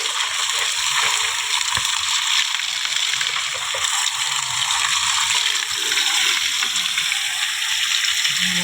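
Water splashes and rushes steadily while a fish pond is being drained and its water replaced, a continuous hissing slosh at close range with no one speaking.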